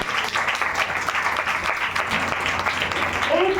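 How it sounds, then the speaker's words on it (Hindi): A church congregation at a Sunday meeting breaks into applause, a dense run of clapping held at an even level throughout, with a voice briefly rising near the end. "प्रभु के लिए ताली बनती है।"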